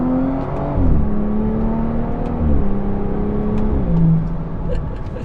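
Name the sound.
BMW F30 340i with AWE touring exhaust accelerating in sport mode, in cabin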